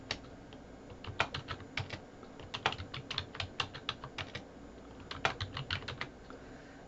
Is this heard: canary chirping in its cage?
no